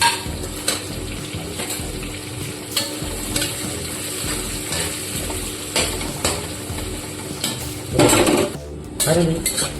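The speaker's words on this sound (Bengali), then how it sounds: "পেঁয়াজ কুচিটা লাল লাল করে ভেজে" Chopped onions fry with whole spices like cardamom, cinnamon and cumin in a pan, a constant sizzle under repeated metallic clanks and scrapes of a utensil stirring, louder clattering toward the end.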